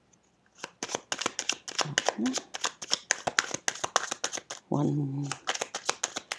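Oracle cards riffle and snap in quick, crisp bursts close to the mic, with brief pauses as cards jump out, while a voice speaks softly over the shuffling.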